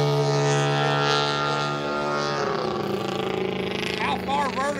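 A giant-scale 60 percent Hempel Extra 260 RC plane engine idles with a steady, droning hum that shifts partway through, close and loud, with a faint voice underneath.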